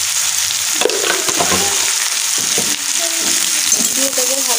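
Thin-sliced raw potatoes, salted and tossed with slit green chillies, sizzle loudly in a hot pan, with a spatula scraping and stirring in short, irregular strokes throughout.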